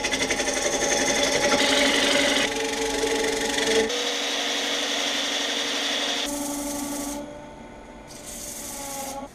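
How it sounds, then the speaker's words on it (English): A 3/8 inch spindle gouge cuts the tenon off a big maple bowl spinning on a wood lathe, making a steady loud scraping rasp with a humming motor tone that shifts as the cut changes and eases off near the end. "Gonna be using my 3/8 inch spindle gouge to turn off the tenon."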